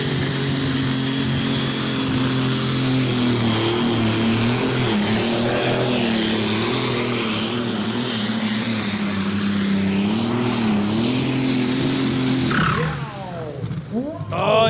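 A pulling tractor at a tractor-pulling event in Edewecht screams at high RPM on the start line and struggles to get away, a loud sustained engine wail that cuts off abruptly near the end.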